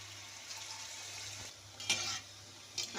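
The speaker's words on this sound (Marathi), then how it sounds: "अशा पद्धतीने आता आपण असे मंचुरियन तळून घेणार आहे." Manchurian balls fry in a pan of oil over medium heat, a faint continuous sizzle with a couple of brief louder bubbling bursts, close and without talk.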